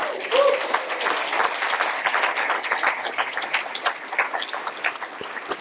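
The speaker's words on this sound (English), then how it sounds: "Please join me in giving them a round of applause" An audience at a hall of fame award ceremony applauds, with dense, sustained clapping from a crowd that fades slightly toward the end.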